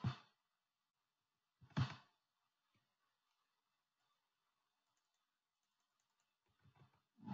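Computer keyboard typed during a gym management software demo, a couple of isolated sharp key clicks separated by long quiet gaps, then a short burst of lighter taps at the end.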